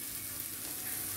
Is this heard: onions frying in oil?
yes